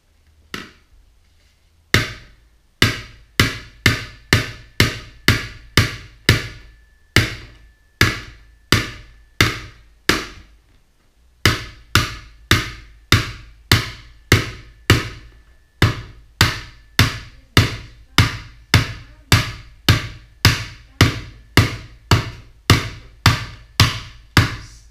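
A hammer repeatedly strikes a crash helmet in an impact test, dozens of sharp, loud hits in a steady pounding rhythm with one short pause partway through.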